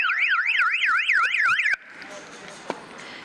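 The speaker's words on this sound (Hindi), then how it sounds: "ये देखिए, जैसे ही कोई अलार्म बजा, कोई फॉल्स अलार्म बजेगा" A loud electronic security alarm wails in a fast rising-and-falling warble, then cuts off abruptly, leaving quiet background noise and a single faint click.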